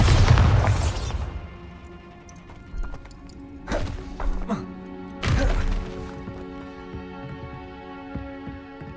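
A Bombarda spell blast in Hogwarts Legacy: a heavy boom opens, then two more deep explosive bursts follow several seconds apart, each trailing off into a ringing sustained tone, with no talk.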